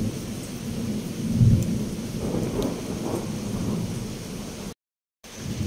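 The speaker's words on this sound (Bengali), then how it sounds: "মেঘটা কিভাবে ডাকছে দেখো। প্রচুর বৃষ্টি হচ্ছে" Deep thunder rumbles over steady heavy rain pounding a mud house, a loud swell early on, then continuous downpour with a brief dropout near the end; no voices.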